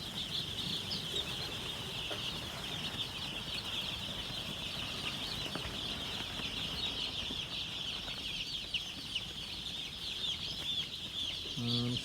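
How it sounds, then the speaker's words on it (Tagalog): A crowd of broiler chicks in a poultry brooder peeps in constant high, dense chatter, with occasional lower clucks and wing flutters mixed in. The sound is steady and close, and no voices are heard. "silipin natin yung mga sisiw kung ano na yung kalagayan nila"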